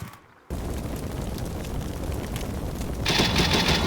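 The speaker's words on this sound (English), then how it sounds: "Even our last Stryker has picked up some contacts to the north and is putting some grenades into it." A Stryker fires grenades in the war game Combat Mission Shock Force 2, a dense rumbling roar of rapid launches and explosions that cuts in after a brief lull and grows harsher near the end.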